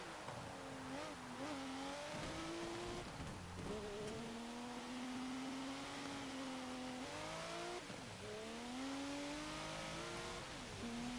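A 1990 Renault Alpine GTA Le Mans in Forza Motorsport 7 revs hard through repeated gear changes, engine pitch climbing then dropping with each shift, droning steadily up close while someone talks over it.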